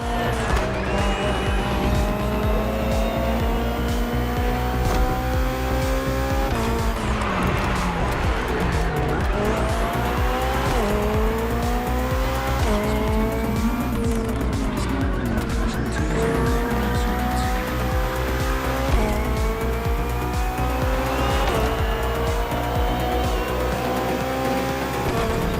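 A BMW hybrid V8 race car in The Crew Motorfest screams through repeated gear changes, revs climbing and dropping in waves, with tires squealing through corners for the whole stretch.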